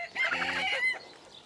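A chicken gives a short, loud clucking call close by, with faint farmyard background after it fades.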